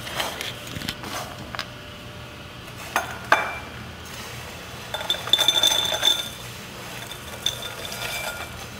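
Pot of mole being taken off the stove and transferred into a container, with sparse metallic clinks and clatters of pots and utensils and a brief stretch of scraping, close but mostly quiet.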